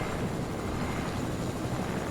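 Helicopter flying in the video game Fortnite, a steady dense rotor and engine drone held at constant loudness throughout, with no voices over it.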